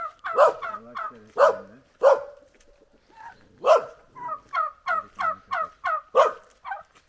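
White turkeys gobble repeatedly and loudly in a Turkish village, a series of rapid rattling calls close by, with a few short pauses between bursts.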